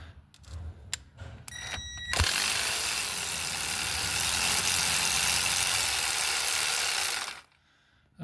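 A ratchet or air tool whirs steadily for about five seconds while removing bolts from a Volvo XC90 intercooler, preceded by a few sharp metallic clicks and knocks up close, then cutting off to near silence.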